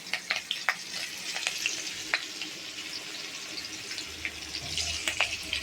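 Potatoes frying in the pan of a pabda fish curry with black cumin and green chillies, a steady soft sizzle with scattered crackles and pops throughout, fairly quiet and close, no voices.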